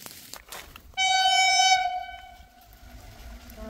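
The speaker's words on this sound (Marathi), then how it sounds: "ट्रेन पण आली आहे." A train sounds a loud, sustained horn blast lasting about a second that fades away, over a low rumble of the passing train near a forest boundary line.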